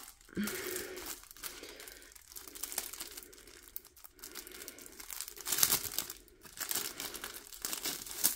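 Plastic sachet from a partial diamond painting kit being opened by hand, with close, steady crinkling and rustling that swells and fades in bursts across the clip, no voices.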